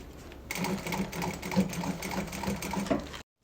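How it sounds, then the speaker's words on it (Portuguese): A sewing machine stitches a fabric pencil case in one steady, rapid run of close mechanical chatter for about three seconds, then stops abruptly. "Estabiliza e passa uma costurinha"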